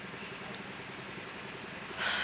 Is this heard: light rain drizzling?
yes